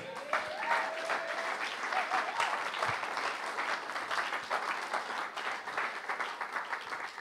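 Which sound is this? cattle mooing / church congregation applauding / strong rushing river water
church congregation applauding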